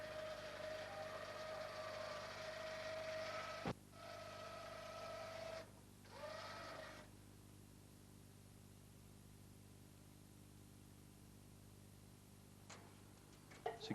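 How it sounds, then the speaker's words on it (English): A winch on a light tower lowers the mast, giving a faint steady mechanical whirring with a sharp click midway and short stop-start bursts, then quiet with a brief knock near the end. "Activate the winch until the mast spring begins to pivot the tower down."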